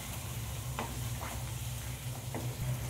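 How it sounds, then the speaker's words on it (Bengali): Chicken being sautéed with ground spices in a pan for a chicken capsicum curry, a steady low sizzle with a few faint scraping stirs, heard alone at moderate level. "ভালো করে চিকেনের সাথে মশলাটা আমি কষিয়ে নেব"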